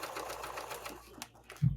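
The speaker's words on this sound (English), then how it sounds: "And I'm going to back stitch." A sewing machine back stitches at the end of a zipper seam on a sling bag, running in a steady rapid stitch pattern up close before a brief pause and a low thump.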